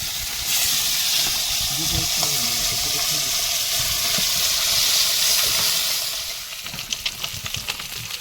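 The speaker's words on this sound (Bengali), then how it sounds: "এবার মাছ ভাজা বসিয়ে দিচ্ছি একবারে।" Fish frying in a pan over a low gas flame aboard a boat in the Sundarbans: a steady, close, dense sizzling hiss that thins into crackling pops near the end, with faint voices beneath.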